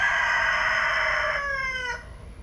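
A rooster crows once, a loud, close, sustained call that trails off into a falling tail, with no talk over it.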